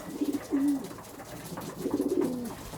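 Young pigeons in a loft give soft, throaty coos in two short bursts separated by a pause, close by and with nothing else heard.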